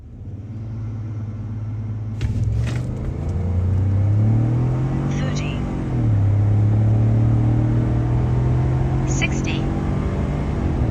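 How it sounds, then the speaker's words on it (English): A tuned truck fitted with a cold air intake runs up close and loud, its engine rumbling steadily before revving up twice and settling back down in between. "I just ran the truck a couple times"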